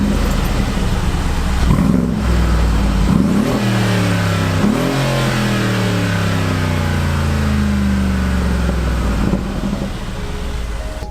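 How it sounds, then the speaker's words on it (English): A Mercedes G63 AMG engine fires up and revs hard several times, each rising roar falling back, loud and close, before settling into a rumbling idle. "let me just start the engine, give you a little sound check."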